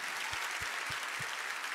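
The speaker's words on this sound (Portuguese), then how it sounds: "Vamos aplaudir forte." A church congregation applauds during a worship service, a faint, distant, steady wash of many hands clapping with a few soft low thumps, no voices over it.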